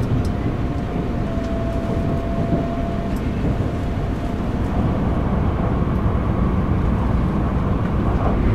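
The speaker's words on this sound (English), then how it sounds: "the train is moving right now" Train travelling through Gunma Prefecture toward Nagano in Japan, a loud steady interior rumble of the moving carriage with a faint tonal whine early on and no talking.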